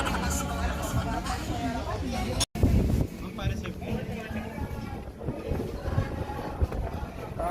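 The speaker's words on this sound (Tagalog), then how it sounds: "Sobrang lakas ang hangin guys." Strong wind buffets the microphone in a steady low roar at Tagaytay, with people talking and chattering nearby throughout and a brief dropout partway through.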